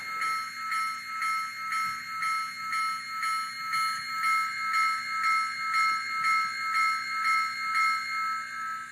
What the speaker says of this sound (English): Or sorry, I apologize. It's the bell.